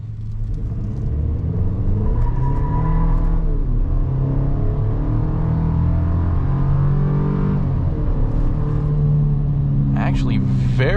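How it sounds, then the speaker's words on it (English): A 2024 Chevy Silverado 1500 Custom pickup accelerating hard in two-wheel drive, a loud, close, deep engine roar that builds and shifts through gears with a brief tire chirp from wheel spin, and a person talking over it. "Actually, very impressive acceleration from this. We even got a little bit of wheel spin there."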